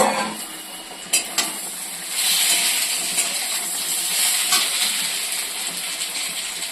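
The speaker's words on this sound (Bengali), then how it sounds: "এবার ভেজে রাখা বেগুনগুলো দিয়ে দিলাম।" Pieces of fried eggplant are added to a pan of fried drumsticks and potatoes. Two sharp clinks come first, then a loud, steady sizzle and hiss rises with stirring scrapes.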